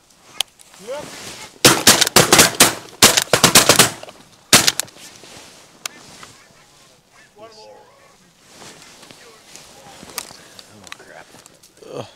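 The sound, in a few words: two quick gunshots while hunting bean geese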